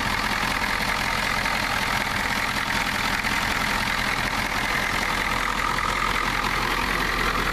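A non-turbo 1993 Ford F-250 IDI diesel idles steadily nearby, a continuous even rumble with no change in pace for the whole stretch and no voices.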